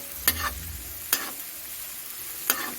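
Egg fried rice is stir-fried in a hot pan, three distinct scraping strokes of the spatula cutting through a steady low sizzle, close and clear, with no talking.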